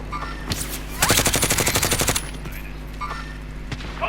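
Rapid automatic gunfire in Call of Duty Modern Warfare, a sustained burst of about a second with a few isolated shots before and after, loud and close.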